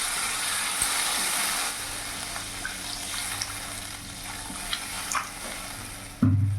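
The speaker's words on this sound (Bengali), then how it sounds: "এবার আমি জল দিয়ে দেবো।" Water poured into a pan of silver carp curry with potatoes and cauliflower on a gas stove, a steady splashing hiss with small clinks, ending in a louder low thud.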